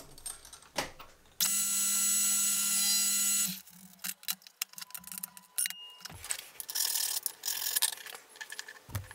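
Milling machine cutting tool taking a second cut on a custom profile cutter, a few seconds of loud steady grinding whine followed by scattered clicks, taps and rattling metal handling noises.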